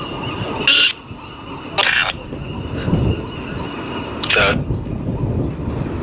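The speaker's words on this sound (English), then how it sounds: "Those seagulls sound like monkeys." Gulls calling near Alcatraz: a few loud, harsh bursts of squawking cries spaced a couple of seconds apart over a rough windy outdoor background.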